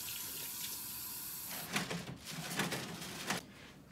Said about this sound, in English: thing I do, I wash my hands